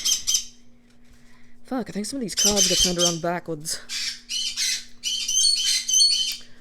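Pet birds let out loud, harsh squawks in bursts with sharp chirps between, close by, while someone speaks over part of the calls.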